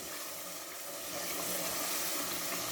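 Masala with cumin powder sizzling and frying in a pan for dhaba-style moong dal fry, a steady close crackling hiss that grows slightly louder midway, with no talking.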